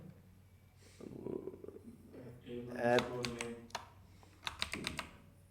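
Code is typed on a computer keyboard in quick, soft clusters of key clicks, close and fairly quiet, with a person talking over much of it.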